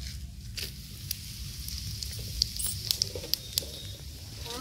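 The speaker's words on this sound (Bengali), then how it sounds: "তেলের মধ্যে ফোড়ন দিয়ে দেবো। শুকনো লঙ্কা, জিরে, গোটা গরম মশলা" Dry red chillies, cumin and whole garam masala fry in hot oil for a tomato chicken curry, giving a faint, steady sizzle with a handful of sharp crackling pops scattered through it.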